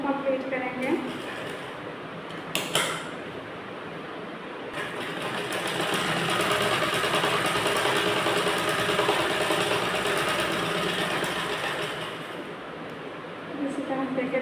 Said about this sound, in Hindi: इस तरह से सिलाई लगाते हुए इस लाइन को कंप्लीट करेंगे।